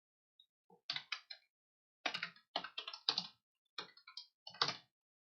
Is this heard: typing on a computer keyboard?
yes